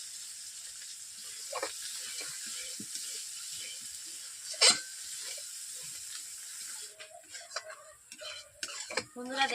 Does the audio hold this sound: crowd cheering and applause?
no